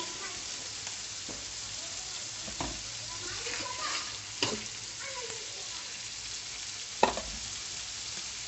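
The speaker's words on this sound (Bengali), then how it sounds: "প্রথমে মশলাগুলো ভালোভাবে কষিয়ে নেব" Mixed spices sizzle and fry in hot oil with bay leaves for a koi fish curry, a steady close hiss broken by a few soft stirring scrapes and one sharp clink.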